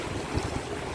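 Strong seaside wind at Sarayburnu buffets the microphone with a low rumbling roar, steady and close, with no voices.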